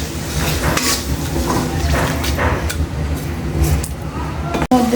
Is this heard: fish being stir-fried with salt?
yes